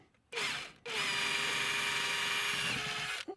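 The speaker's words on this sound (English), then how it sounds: "then you just take your drill and make your holes and the marks." An electric drill whirs loudly while boring pilot holes in a vehicle for mounting a Tekonsha P3 electric brake controller, with a brief first burst followed by a longer steady run of about two and a half seconds.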